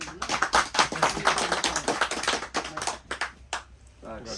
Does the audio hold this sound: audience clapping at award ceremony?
yes